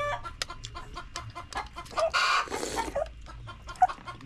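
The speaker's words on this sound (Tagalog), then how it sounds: "Maraming mga manok mga idol." Chickens cluck and chatter nearby in quick, irregular bursts, with one louder squawking outburst in the middle and scattered clucks continuing around it.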